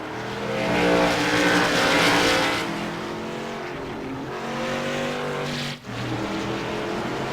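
Race cars roar around the oval at Langley Speedway during a CRA special event, with loud sustained engine drones that rise and fall as they pass, heard alone without talk.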